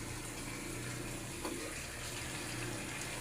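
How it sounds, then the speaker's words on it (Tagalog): Pumpkin and vegetables boiling in a pot on a home stove give off a steady, continuous bubbling hiss that holds at an even level throughout, with no voices. "Kumukulo."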